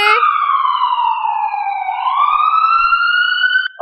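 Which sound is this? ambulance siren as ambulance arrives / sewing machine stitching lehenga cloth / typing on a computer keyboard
ambulance siren as ambulance arrives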